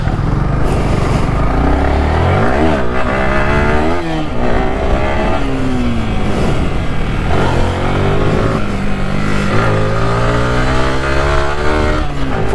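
An NS 200 motorcycle is ridden hard nearby, its engine revving up and down again and again in loud, rising and falling surges with no talking.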